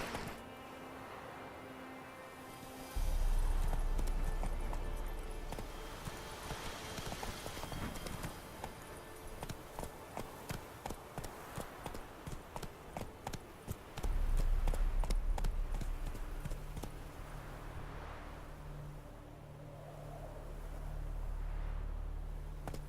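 A horse gallops in the video game The Witcher 3: Wild Hunt, with a long run of rhythmic, rapid hoofbeats over steady game music and ambience, moderately close.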